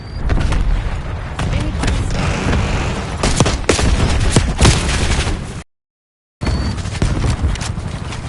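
An enemy grenade explodes in the war video game Howitzer n Hellfire, amid a dense, continuous barrage of loud booms and gunfire that cuts out abruptly for a moment before resuming.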